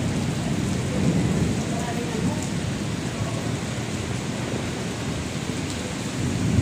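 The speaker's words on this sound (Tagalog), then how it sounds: "Umaanggi po, lakas ng ulan dito ngayon, no?" Heavy rain pours down in a steady, dense roar that fills the whole stretch, with deep rumbles of thunder blended into the downpour.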